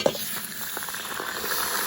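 Hot oil sizzles and hisses steadily in a heated kazan cauldron for plov, opening with a sharp spitting pop, then crackling on close by without voices.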